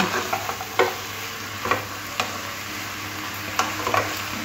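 A spoon scrapes and stirs bottle gourd curry in a pan over a soft, constant sizzle, with a handful of sharp, irregular scraping knocks spaced across a few seconds.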